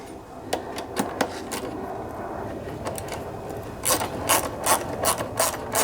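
Close, crisp clicking of a ratchet tightening a square nut on the plastic handle of a Troy-Bilt MTD Honda lawnmower, in quick bursts of clicks with a short pause in the middle, and no talk.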